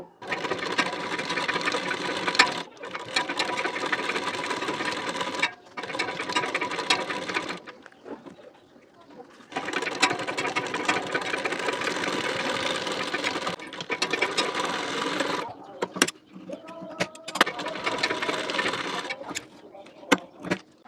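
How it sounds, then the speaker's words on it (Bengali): A sewing machine stitches down a folded border strip on a blouse front, running in several loud, close bursts of rapid whirring separated by short pauses. "এটাকে ঠিক এর উপরে এইভাবে ফোল্ড করে বসিয়ে নিতে হবে নিয়ে এর উপর থেকে সেলাই দিয়ে নেব"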